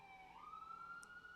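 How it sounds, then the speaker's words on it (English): Emergency vehicle siren outside, faint and distant, a single rising wail that holds its pitch as it carries in from the street. "Sorry about the sirens"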